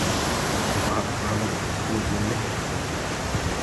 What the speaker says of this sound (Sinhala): උඩ වතුර වැටෙනවා